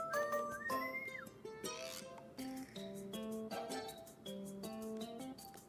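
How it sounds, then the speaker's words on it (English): A whistle sounds in the horror video game Dread Weight, a series of tonal, shifting notes that rise and step between pitches over a dark, eerie ambient bed, fairly prominent throughout with no talk. "I just heard a whistle and I didn't enjoy that."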